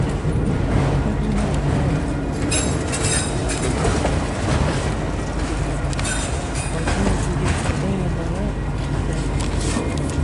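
A long freight train with distributed power (DPU) locomotives rolls past at an evening train meet, a loud continuous rumble with clattering wheels and faint squeals, while people talk over it.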